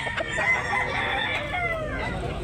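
An 18-month-old backyard-bred rooster in Tabunok, Talisay, Cebu crows nearby in a long strained call, with faint clucking and other fowl sounds in the background.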